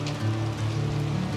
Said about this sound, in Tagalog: ito yung first time namin na masubukan na kaming dalawa ay ganito yung ulan ang sitwasyon